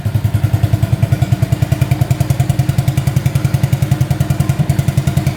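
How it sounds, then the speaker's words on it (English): A small three-wheeler's engine runs steadily after a first-pull start, its loud, close, rapid low thumping putting along evenly with a slight clatter on top. "Pull start's working great. Started first pull."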